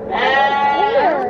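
A sheep gives one long wavering bleat, loud and close, held for over a second.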